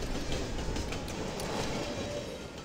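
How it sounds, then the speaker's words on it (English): Steady rumbling rail noise of a moving train in the video game Contract J.A.C.K., a broad, even roar with faint rhythmic clatter and no voices, moderately quiet throughout. "So we can jump onto the train."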